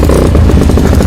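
A motorcycle engine catching and running rough at close range, a loud low rumbling burst with a faint clattering edge, brief and with no talk over it.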